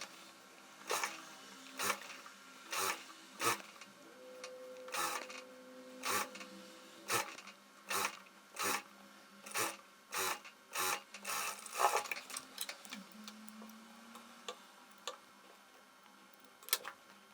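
A straight-stitch sewing machine hems dress fabric in short bursts, a string of quick, clattering runs roughly a second apart, fairly quiet and close, with no talk.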